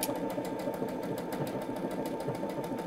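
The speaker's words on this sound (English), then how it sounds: "once we hit the go button, it will now start stitching" A Brother Stellaire XJ1 sewing machine stitching steadily, giving a fast, even mechanical whirr with a regular rapid ticking rhythm, close up and continuous with no speech.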